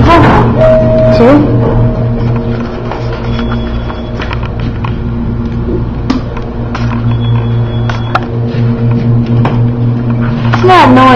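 An Otis hydraulic service elevator, car 44 with 4,000-pound capacity, at the Riviera in Las Vegas, running with a steady low motor hum and scattered clicks and clunks, while people talk nearby.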